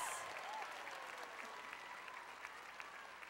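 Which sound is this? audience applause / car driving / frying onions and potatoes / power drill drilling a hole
audience applause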